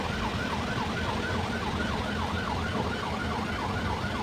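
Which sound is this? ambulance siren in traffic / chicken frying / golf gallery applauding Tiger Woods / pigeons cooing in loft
ambulance siren in traffic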